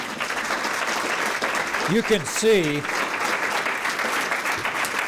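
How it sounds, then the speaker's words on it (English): A crowd at a tribute to Ruth Ann Harnisch applauds steadily and loudly throughout, while a voice briefly speaks over the clapping midway. "give her a round of applause"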